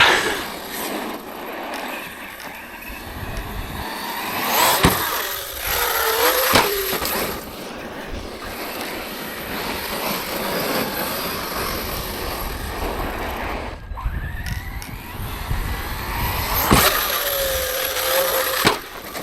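An Arrma Granite BLX RC car's brushless motor whines under light throttle, rising and falling in two short bursts over a steady, rough, close-up roar of wheel and outdoor noise.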